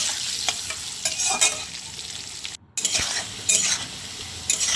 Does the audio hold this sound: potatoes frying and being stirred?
yes